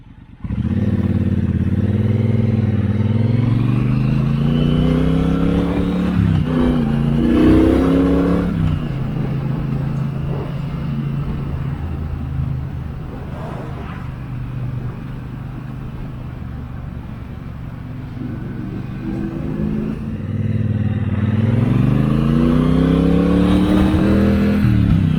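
A Triumph Bobber motorcycle ridden on the road, its engine loud and close with a steady rumble, rising and falling as it revs and shifts through gears, with wind noise throughout and no talking.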